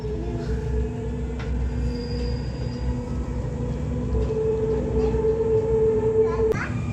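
Riding a metro train in Riyadh brings a steady, loud rumble of the carriage throughout, with children's voices chattering over it.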